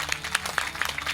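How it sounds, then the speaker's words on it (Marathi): Audience clapping together at a kirtan gathering, a quick run of sharp, fairly steady claps heard at moderate loudness. "एकदा जोरदार टाळी वाजवूया आपण"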